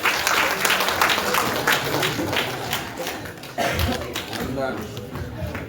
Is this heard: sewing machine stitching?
no